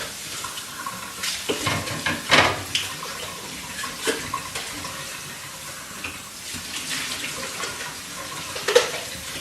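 Tap water running into a sink while a Slap Chop chopper is rinsed, a soft continuous flow broken by splashes and clatters of handling.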